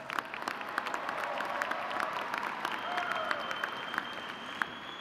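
A graduating class and audience at a 2019 spring university commencement ceremony applaud, producing steady, dense clapping that holds for the whole stretch at moderate loudness, with a faint crowd murmur beneath it.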